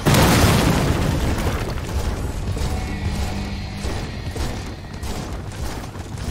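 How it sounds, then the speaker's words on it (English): Airstrike blasts in the Gears of War 4 campaign, heard as a heavy, loud boom at the start that rolls into sustained low rumbling and debris clatter for several seconds. "Airstrike incoming."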